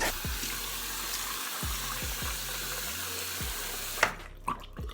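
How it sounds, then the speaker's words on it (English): Warm water runs from a sink tap while someone splashes it onto their face during a skincare routine, giving a steady close hiss of flowing water broken by repeated soft splashes, with no speech. "I'll go ahead and wet my face with warm water."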